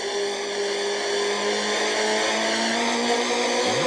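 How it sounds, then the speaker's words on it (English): A Nissan Primera touring car heard from an onboard race cam, engine holding a loud, steady high-revving drone at full throttle down a straight, with wind roar and no talk. "More race cam action from the Foss car, and another demonstration of the Nissan Primera's straight line speed"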